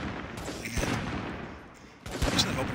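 Rapid gunfire from a zombie survival video game, as defenders shoot at zombies attacking their base; dense bursts of shots run throughout, swelling again near the end, with faint talk underneath.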